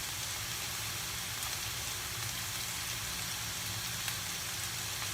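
Turkey meatballs browning in a pan give a steady, dense sizzle with a constant crackling hiss, close and even throughout, with no talk over it.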